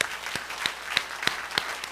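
A church congregation claps after a sermon: a short burst of loose, rhythmic hand claps, fairly close and moderately loud, with no speech over it.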